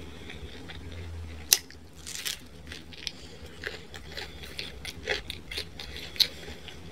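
Someone eating pizza close to the mic, with a run of crisp crunching bites and chewing clicks, one sharp loud crunch among softer, irregular ones.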